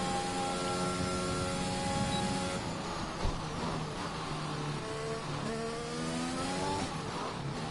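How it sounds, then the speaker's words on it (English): A Williams Formula 1 car in the F1 2021 video game screams at full throttle on the Great Britain circuit, its engine note rising in steady harmonic sweeps through upshifts, loud and continuous with no talking. "he's turning on the DRS, going into full throttle on that Williams car."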